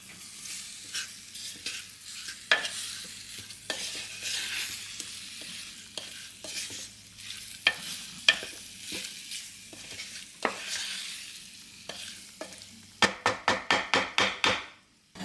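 Garlic and beef with browning stirred in a hot frying pan, a constant sizzle broken by irregular spoon scrapes and knocks, ending in a fast series of sharp taps against the pan.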